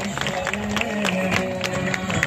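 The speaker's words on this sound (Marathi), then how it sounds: "जोरदार टाळ्या आपण वाजूया." A crowd of people applauds to welcome an honoured guest, a sitting member of parliament, at a Christian community gathering in Miraj. The clapping is steady and dense throughout, with a voice faintly audible beneath it.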